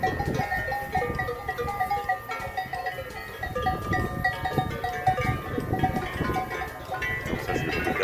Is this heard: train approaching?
no